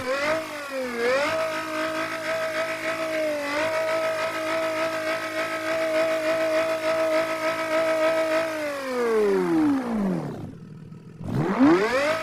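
A BMW 3-litre car engine revs up and holds a steady high whine, close and loud, then drops away and surges again in a rising sweep near the end.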